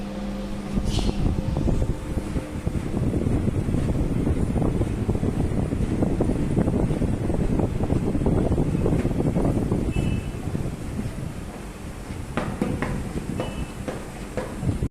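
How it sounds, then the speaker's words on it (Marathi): Strong wind and heavy rain give a loud, continuous roar with gusty buffeting across the microphone. Scattered sharp ticks and knocks come through the storm noise. "आमच्या इकडं खूपच वारा पाऊस सुटलेला आहे."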